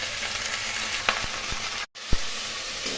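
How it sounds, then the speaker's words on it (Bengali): Cauliflower frying in a pan with salt and turmeric, giving a close, steady sizzle broken by several sharp stirring clacks and one brief cutout in the sound. "এখন খুব ভালো করে ভেজে নেবো।"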